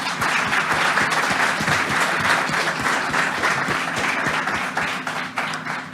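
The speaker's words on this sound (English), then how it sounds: "So another big round of applause for Mike." Sustained applause from a conference crowd after a talk fills the space, steady and loud throughout with no talking over it.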